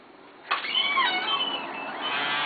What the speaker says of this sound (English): And this is a kitty.